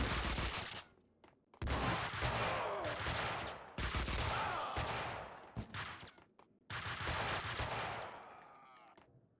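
Rapid gunfire bursts from the video game Max Payne 2, loud and dense, cutting in and out in several long volleys with short gaps of near silence between them.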